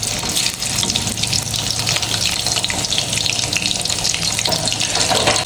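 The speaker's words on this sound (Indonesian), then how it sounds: "Kemudian aku potong-potong dan di sini langsung aja aku goreng." Cut potato pieces fry in hot oil for Indonesian perkedel, making a loud, dense, continuous sizzle and crackle close up with no talk.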